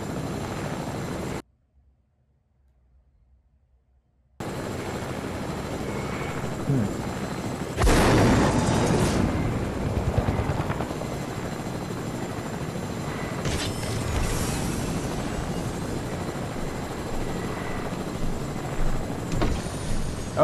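Helicopter rotor and engine in Fortnite, a dense continuous whir that cuts out for a few seconds near the start, then returns loud and steady with bursts of distant gunfire and booms layered over it.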